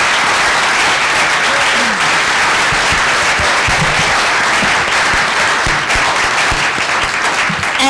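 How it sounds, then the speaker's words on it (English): Sustained applause from the audience at an academic symposium panel on identity and the nation-state, steady dense clapping filling the room for the full stretch with no talk. "If we could have another round of applause"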